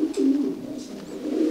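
A large pink pigeon coos softly nearby, a low, throaty, rolling call repeated in short pulses over a quiet background.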